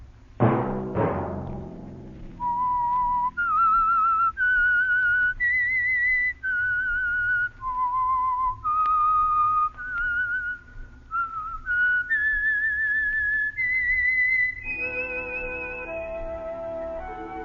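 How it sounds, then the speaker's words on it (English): A lone whistled melody, the theme signal of The Whistler radio program, rising and falling in clear sustained notes after a couple of opening hits, ending as an orchestral chord swells in. "Let that whistle be your signal for the Signal Oil program, The Whistler"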